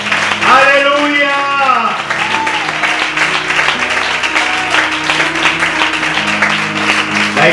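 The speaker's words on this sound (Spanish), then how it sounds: "¿Le puedes dar un aplauso a Cristo?" Church congregation applauds during an evangelical service, clapping blending with loud sustained voices and cheering, with a prominent voice rising over the crowd at the start and continuing amid the dense clapping.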